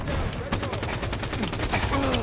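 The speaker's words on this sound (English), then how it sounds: "we're pretty much tearing him up just with our assault rifle" Rapid automatic assault rifle fire from Halo 5 crackles in a steady fast burst, close and loud, over a low game background.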